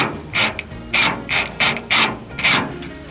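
A rivet nut tool sets a rivnut during a hunting trailer storage build, giving about six rhythmic, close grinding ratchet strokes as it tightens and binds.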